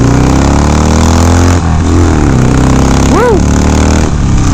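Harley-Davidson Sportster 1200 motorcycle pulling uphill, its engine loud and close with rising, shifting harmonics through gear changes, while a rider's voice briefly calls out over the rumble.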